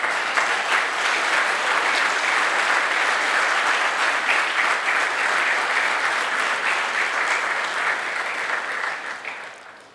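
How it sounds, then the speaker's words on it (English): An audience applauds the new PGDM 2024-26 cohort at a business school inauguration ceremony, with steady, dense clapping that holds for several seconds before fading out at the end. "let us all give each of us a big round of applause"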